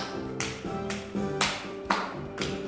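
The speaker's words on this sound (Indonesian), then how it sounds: "Tepuk tangan ya." At a children's care center worship song, people clap along in time, sharp claps landing roughly every half second over sung melody and accompaniment.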